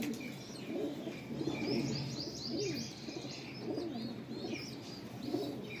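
Pigeons kept for sale cooing repeatedly in soft, rhythmic rolling calls, fairly close, with faint chirps and background ambience.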